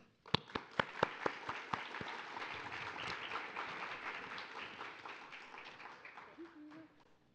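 An audience applauds to welcome author Lori M. Lee at an evening book event for "Pahua & the Soul Stealer": a few sharp early claps swell into sustained, dense clapping from a crowd that slowly fades.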